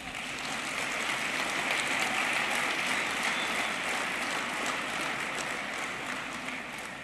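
Sustained applause from an awards ceremony audience, steady dense clapping filling the room for about seven seconds at an even level.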